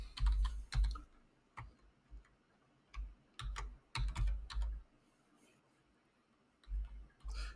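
Keys clatter on a computer keyboard in short irregular bursts of typing with pauses between, close and fairly quiet in a calm indoor setting, no talking.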